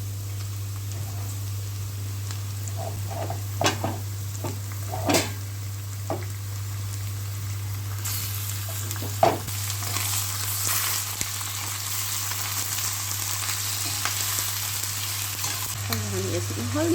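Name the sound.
onions frying and being stirred in pan for chicken gravy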